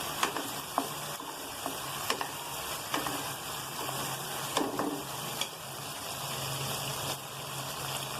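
Tomatoes sizzle and fry gently in a pan over a medium flame, a soft continuous crackle broken by occasional stirring clicks from a utensil, with no voices.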